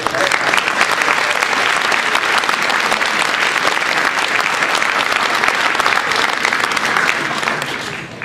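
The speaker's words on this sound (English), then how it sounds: "Let's have one more round of applause for all those earning rank advancements." Loud, sustained applause from an audience at an Eagle Scout Court of Honor, celebrating scouts earning rank advancements; dense clapping fills the whole stretch without letup, tapering slightly at the end.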